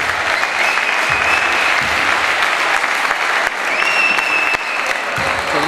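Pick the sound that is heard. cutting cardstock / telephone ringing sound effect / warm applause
warm applause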